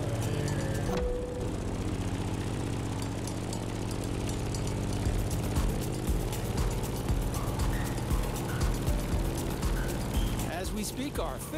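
A Grumman F8F Bearcat propeller plane engine in the video game The Crew Motorfest drones loud and steady with a rhythmic pulsing buzz, rising slightly in intensity toward the end.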